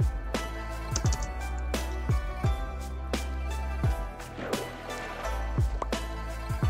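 Block placing in Minecraft PE makes a rapid series of short, soft pops and clicks, repeating irregularly over a steady low in-game background.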